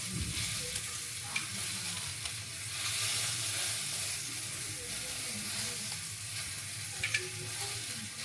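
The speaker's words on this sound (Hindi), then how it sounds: "और यहाँ पे मिर्चें तल रही हैं" Green chillies fry in a pan with a steady, bright sizzle and occasional stirring clinks, continuous and close throughout.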